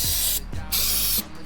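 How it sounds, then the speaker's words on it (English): Cleaner sprayed onto the rear brakes of a Ford F150 King Ranch: three loud, close hissing bursts of aerosol, the second and third longer, separated by short pauses. "I just want to kind of spray this down"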